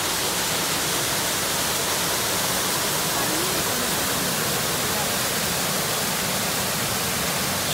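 A secret waterfall in the Snowy Mountains of Australia, its falling water a dense, unbroken roar that fills the whole stretch at steady loudness, a voice briefly murmuring beneath it.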